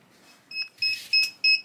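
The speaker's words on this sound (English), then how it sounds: "that is my alarm going off" A heat press timer alarm beeps at the end of a 60-second sublimation press on socks at 400 degrees, giving four short, evenly spaced electronic beeps that ring out alone and fairly loud.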